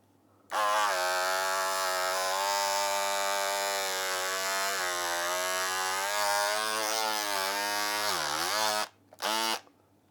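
Handheld 10,000 RPM rotary cutter slicing through a few millimetres of hard plastic, a loud, high, steady whine that dips in pitch as it bogs down near the end, then cuts out, briefly restarts and stops again.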